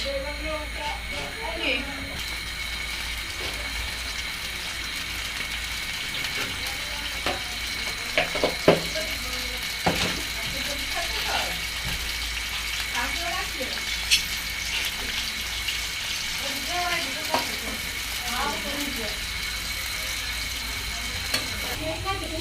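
Chopped garlic and onion fry in oil for a fish and dried-fish dish, making a continuous sizzling hiss with occasional stirring clatters, while a person talks over it throughout.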